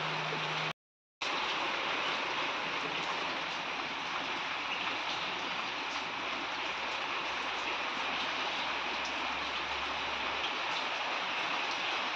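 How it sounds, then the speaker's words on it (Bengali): Steady, dense rainfall hisses continuously with no voices, a constant wash of water noise after a brief silent break at the start. "বৃষ্টি পড়ছে"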